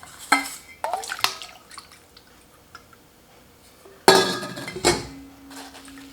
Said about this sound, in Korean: 자, 양파 물로 한번 헹궈주세요.